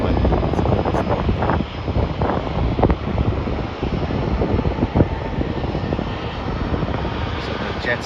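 A Jetstar Airbus A320 roars steadily departing Melbourne Airport, a broad rumbling engine noise mixed with gusting wind buffeting the microphone.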